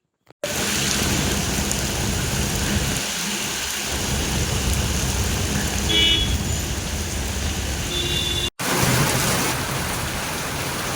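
Heavy pre-monsoon rain pours steadily in Amravati with thunder rumbling through, a dense continuous roar of rainfall close by, briefly broken by a short gap near the end.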